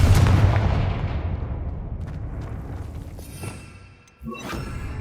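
Confringo fire spell from the Hogwarts Legacy game erupting into a loud booming blast that rolls and fades over several seconds, followed by a sharp secondary crack near the end.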